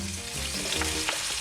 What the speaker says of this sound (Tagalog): Then we'll put our garlic and onion.